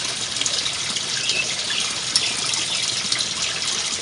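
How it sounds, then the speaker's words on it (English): Water swirls steadily inside a 5 gallon bucket swirl filter, a continuous close hissing gush with faint splashes throughout. "Got water swirling in it."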